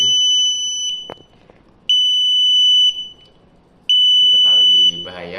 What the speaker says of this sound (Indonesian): kita taruh di bahaya, nanti dia akan menjalankan buzzernya